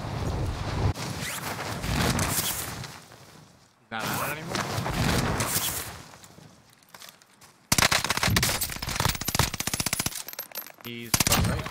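Gunfire in the Call of Duty Warzone video game on the Caldera map, loud rapid bursts of automatic shots and impacts in several stretches, with game effects and voice chatter mixed in.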